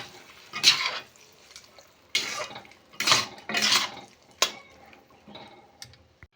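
Several separate bursts of scraping and clinking as a spoon stirs and mixes carrot halwa in a pan, close up, with quiet pauses between strokes.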